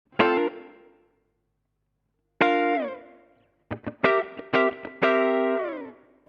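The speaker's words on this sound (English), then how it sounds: "I'm using the MXR reverb, okay? And I've got it set to a plate setting" Distorted electric guitar chords through a Marshall Origin 50 head with an MXR reverb pedal on plate setting, struck one at a time, then a quick rhythmic burst, each ringing out with a short, subtle reverb tail.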